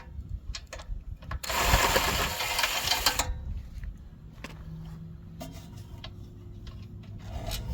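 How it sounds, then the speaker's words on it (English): A handheld screw gun spins a bolt out of a Honda GX160 small engine, a loud whirring burst lasting about two seconds, followed by quieter clicks and handling noises. "once loose, you can use a screw gun to remove the bolt quicker"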